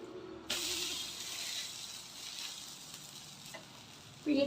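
A pearl millet dosa sizzling in oil on a hot pan just after being flipped, a sudden loud, steady hiss that holds evenly, then a fresh burst of sizzle near the end.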